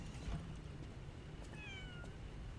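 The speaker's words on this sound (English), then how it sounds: "Cat!" A cat meows once in the video game Lies of P, a short rising-and-falling cry midway through over a low ambient game background.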